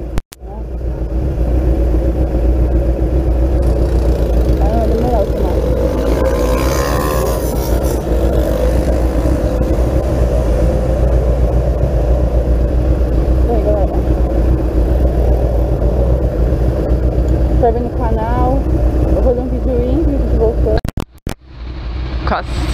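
A Kawasaki Z1000 motorcycle engine rumbles low and steady while ridden slowly through traffic, with a voice talking over it throughout.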